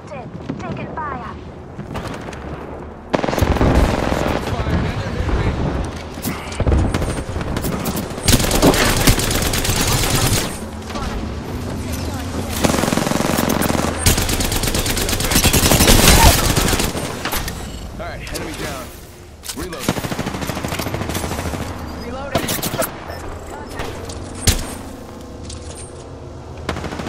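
Heavy automatic gunfire in the video game Apex Legends, loud and nearly continuous with dense bursts and explosions, while a player talks over the action.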